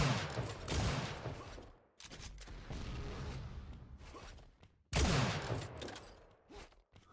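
Weapon fire in Unreal Tournament 4 during a duel tournament: bursts of blasts, whooshes and impacts come in dense, clustered volleys with brief pauses between them.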